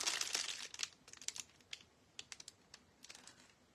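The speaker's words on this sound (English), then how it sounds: "So crumple up" Aluminum foil crumpled by hand for a craft project foiling a Dollar Tree wood pumpkin ghost stencil, giving a dense crinkling burst that thins into scattered crisp crackles, close and fairly quiet, with no talk.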